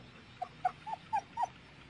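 A Border Collie puppy whimpers in five short, high, plaintive cries spaced about a quarter second apart, close but soft.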